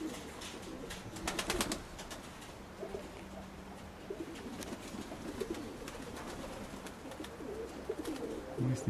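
Pigeons coo steadily at a dovecote while young and older birds return from flight, with a brief flurry of calls and wing noise early on and soft background murmur throughout.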